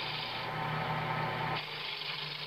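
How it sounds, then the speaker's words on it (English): A wood lathe turning a perch leg to final size, a steady close whirring hum with a rough scraping cut that shifts and softens partway through, brief and alone without speech. "re-chuck it back in the lathe and turn it to its final size."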